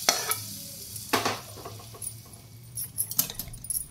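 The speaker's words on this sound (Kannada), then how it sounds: "ಸಾಸಿವೆ ಇಂಗು ಎಲ್ಲ ಹಾಕಿ ಒಗ್ಗರಣೆ ಮಾಡಿ ಇಟ್ಕೊಂಡಿದ್ದೀನಿ. ಅದನ್ನು ಹಾಕ್ಬಿಡ್ತೀನಿ." Hot mustard-and-asafoetida tempering hits a pickle mix with sharp bursts of sizzle and crackle, followed by stirring and scattered clinks nearby.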